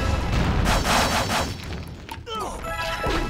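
Artillery bombardment in the online game Atlantica: a dense wash of heavy, rumbling explosions for over a second, then a brief lull with sharper impacts and tonal effect sounds as the barrage resumes.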